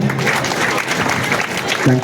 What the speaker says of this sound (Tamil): ஒரு பலத்தை கைத்தட்டல் கொடுத்துருங்க